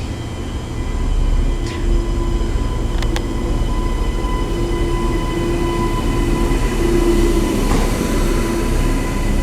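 An NGR commuter train pulls away from the platform at Coomera station, loud and close, with a deep steady rumble, a sustained tonal hum and brief squeals from the wheels, and no talk.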